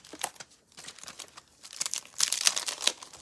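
A plastic package of peppermints crinkles and rustles up close in irregular bursts, from soft handling to sharper crackles, with no speech.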